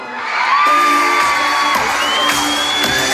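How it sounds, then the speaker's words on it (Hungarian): Festival crowd at a town celebration in Kispest screaming and yelling together on cue, a loud sustained roar of many voices with shrill whoops rising above it, continuous for a few seconds. "amit gyakorolunk, az a sikítás és ordítás."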